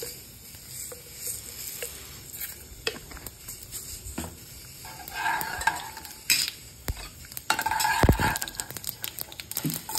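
Cumin, mustard and black mustard seeds crackle and sizzle in hot ghee in a pan, with stirring scrapes throughout and sharper popping bursts growing louder toward the end.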